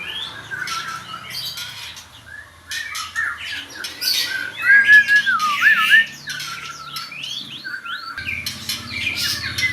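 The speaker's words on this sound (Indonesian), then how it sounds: "Burung sangat-sangat giras ya." A lively caged bird in training calls energetically, firing off rapid squawks and sharp chirps in bursts with short pauses, close and clear over a faint low hum.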